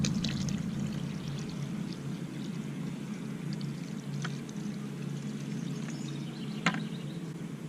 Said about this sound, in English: I'll actually add water.